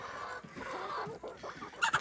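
Chickens cluck and murmur softly at a distance at feeding time in a muddy yard, under outdoor ambience, with a louder squawk near the end.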